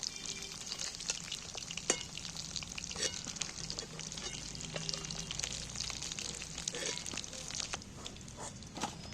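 Sea tengra fish fry in hot oil, a steady close sizzle and crackle with scattered sharp pops and occasional stirring scrapes throughout, at moderate volume with no talk.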